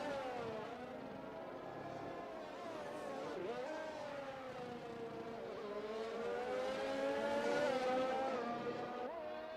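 Formula 1 race cars in F1 2021 at the Brazilian Grand Prix, a Mercedes running close behind another car in the slipstream, engines whining at high revs and rising and falling in pitch, steady and fairly loud throughout.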